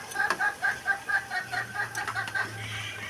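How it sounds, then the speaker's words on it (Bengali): Chickens squawk in quick, evenly spaced repeated calls at moderate distance, with a low steady hum coming in partway through. "আরে মুরগিগুলো না এত বিরক্ত করে"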